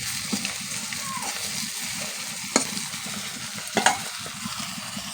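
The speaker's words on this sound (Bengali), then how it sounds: "দেখুন বন্ধুরা মাছটা কীরকম লাল লাল হয়ে গেছে, একদম ভেজে নিয়েছি ভালো করে" Prawns sizzle in hot oil in a pan, a steady close frying hiss with a couple of brief clinks or spatters, and a voice speaks faintly over the cooking.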